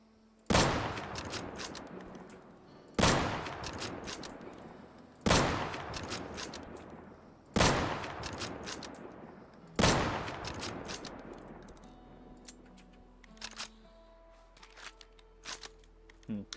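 Gunfire in the video game Deadside: five loud, sharp shots spaced a couple of seconds apart, each ringing out with a decaying tail, followed by quieter scattered clicks and rustles.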